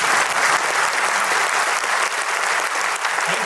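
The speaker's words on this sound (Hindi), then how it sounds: "जोर से ताली बजाइए।" Seminar audience bursting into steady, dense applause that fills the room evenly from start to finish, loud and continuous with no talk over it.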